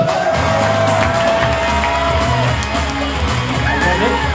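A high school audience at a comedy hypnosis show cheers, yells and whoops steadily throughout, a dense loud crowd roar with scattered shouts and applause.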